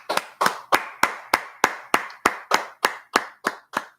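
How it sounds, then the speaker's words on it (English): One person claps hands in a slow, steady rhythm, about a dozen sharp, evenly spaced claps close to the microphone with nothing else heard. "Go ahead and clap it up."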